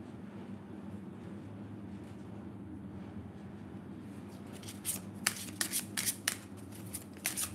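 Tarot cards being shuffled, a run of quick papery riffles in the second half that starts after a few seconds of quiet room hum, close and fairly clear.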